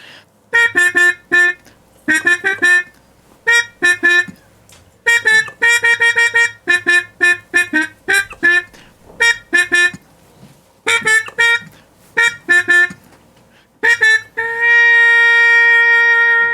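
A trumpet with a Harmon mute plays short, buzzy jazz phrases in quick bursts with gaps between, ending on a long sustained note, heard alone without talking.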